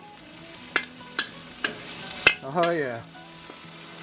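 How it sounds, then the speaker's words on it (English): Aromatics stir-frying in a pan for Cantonese pork belly, with a few sharp spatula clacks and a brief sizzle swell, close up, and a short spoken remark near the end. "Going to fry them up a bit. Get them a little toasty till they start to really smell good."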